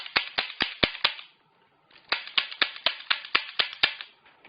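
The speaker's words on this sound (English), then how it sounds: "one of the nice things about a Ruger is that it doesn't hurt it to dry fire it" A Ruger LCR revolver is dry fired, giving two quick runs of sharp metallic hammer clicks, about five and then about eight, crisp and close in a quiet room.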